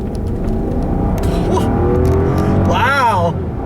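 A 2017 Rolls-Royce Ghost Black Badge with a 6.6-liter twin-turbo V12, accelerating on a straight road. A deep, smooth engine rumble fills the cabin and rises in pitch near the end, with a voice briefly heard over it.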